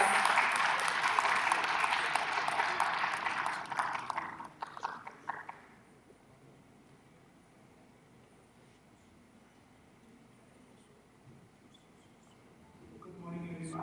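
Loud applause at a space conference as a keynote speaker is welcomed: dense clapping for about four seconds, breaking into scattered claps and then near silence, with a voice starting at the very end.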